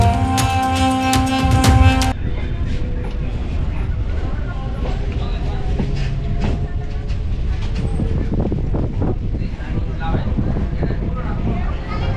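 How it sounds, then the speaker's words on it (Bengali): Train at Hasnabad railway station, a steady loud rumble of rolling carriages with wind buffeting the microphone, preceded by a short burst of ringing tonal noise at the start, continuous and close. "এটা হচ্ছে হাসনাবাদ রেলওয়ে স্টেশন"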